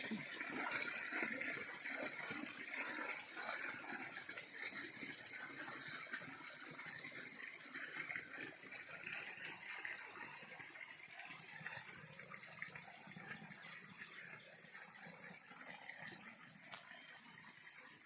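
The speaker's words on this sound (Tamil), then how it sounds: "அப்படியே பாருங்க இதுலேருந்து தண்ணி குதிச்சு அப்படியே போயிட்டு இருக்கு" Water gushes steadily from a water tank outlet and flows off across farmland, a continuous faint rushing hiss throughout.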